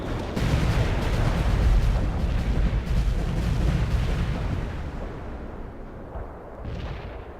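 Airstrike payload explosions in the World in Conflict game, Soviet Assault campaign: a heavy, continuous barrage of booming blasts and rumbling detonations, loud and dense, slowly tapering off toward the end with no talk over it.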